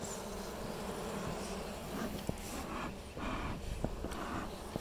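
Honey bees in a weak winter hive give off a steady, dense droning buzz, close and continuous, with a few faint knocks over the hum.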